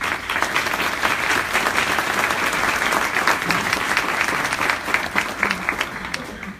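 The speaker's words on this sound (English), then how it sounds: "it's an opportunity for us to thank them with a warm applause for what they're doing" Warm audience applause at a Central Europe Connection event, steady dense clapping held throughout at moderate loudness, with no voices on top.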